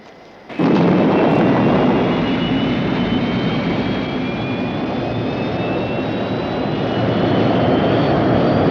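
A spacecraft lifting off in the science-fiction series Space: 1999, a sudden loud roar that bursts in after a quiet moment and then holds as a sustained, rumbling engine blast with a faint whine.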